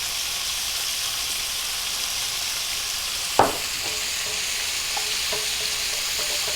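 Coconut shrimp seasoned with salt, pepper and Thai seasoning fry in a pan with a steady, even sizzle, broken once midway by a single sharp clink or stir.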